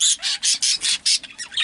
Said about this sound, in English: You hear them squawking at each other.